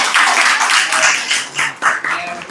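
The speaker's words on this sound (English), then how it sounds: "Please have a round of applause for our performance." Audience applause and clapping at a live short-form comedy show, a dense, loud burst of many hands that swells and dips briefly before picking up again.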